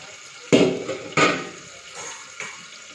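Water pours and splashes in bursts while washed cabbage is drained in a home kitchen, three or four close gushes over a quiet background with no talk.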